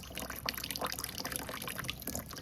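Water trickling and dripping from a repaired faucet, a close, fairly faint run of small splashes and drips continuing steadily, no speech.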